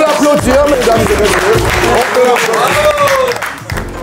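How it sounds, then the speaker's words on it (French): A dinner audience at a Paris restaurant applauds while voices and lively background music continue over the clapping, which stays fairly loud and steady and eases off slightly near the end. "Je pense qu'on peut l'applaudir, mesdames et"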